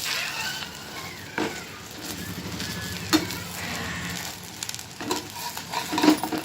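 A bun omelette frying in a kadai just after being flipped, a steady close crackling sizzle with occasional light scrapes and taps of a utensil, no talking.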